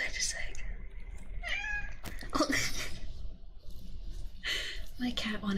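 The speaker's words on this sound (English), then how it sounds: "My cat wanted to say hi." A pet cat meows a few times in a quiet room, close to the mic, with brief soft speech between the calls.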